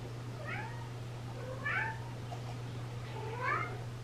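Several cats; one meows plaintively three times at spaced intervals over a constant low hum, fairly quiet and close.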